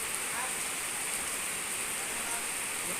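Steady rain falls during an all-day downpour, making a dense, even hiss with no breaks that stays at a constant level throughout.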